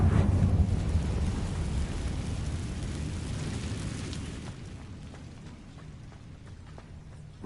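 A Confringo fire spell explosion in Hogwarts Legacy: a loud, deep rumbling blast that opens at full force and slowly decays over several seconds into a low, fading roar.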